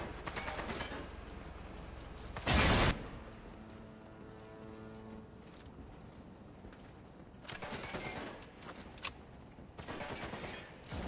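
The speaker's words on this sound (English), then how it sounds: "I love that they're shooting at a building." Video game gunfire aimed at a building, with a loud burst of shots, then scattered bursts and single cracks over a low rumbling background, fairly distant and without speech.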